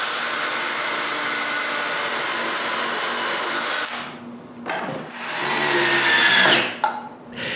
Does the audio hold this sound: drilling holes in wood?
yes